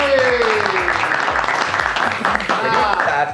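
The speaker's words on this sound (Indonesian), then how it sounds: "Wah, tepuk tangan untuk Lois." A studio podcast audience gives a short burst of lively clapping, close and fairly loud, with voices speaking over it.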